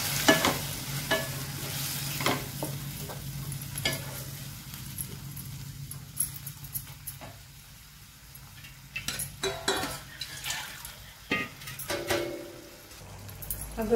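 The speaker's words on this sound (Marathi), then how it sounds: "ही चवळी घालत आहोत आपण" Boiled cowpeas are added to a hot pan for a curry and stirred, with soft sizzling under repeated spoon scrapes and clinks against the pan, fairly quiet and close.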